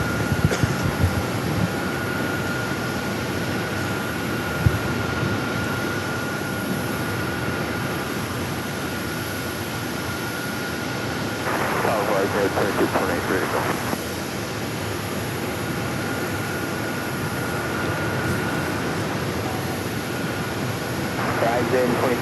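An airliner taking off on runway 8 at Phoenix Sky Harbor airport, a steady distant jet roar throughout, with a voice talking over it.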